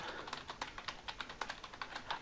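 Computer keyboard keys pressed in a quick series of light, close clicks while a text editor shortcut is used, with no talk over them.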